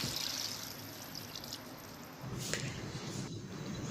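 Water poured from glasses into a pot of beef for pulao, a steady splashing pour with brief breaks between pours, close and moderately quiet.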